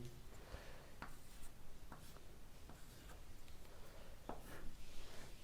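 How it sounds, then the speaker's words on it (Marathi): Chalk or marker writes on a board during a chemistry lesson, a faint scratching with soft taps and strokes under a low, steady room hiss. "मुद्दाम लिहितो आहे मी."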